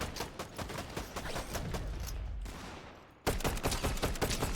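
Gunfire in the Fortnite video game, rapid bursts of automatic shots that pause briefly and then resume loudly, with no talk.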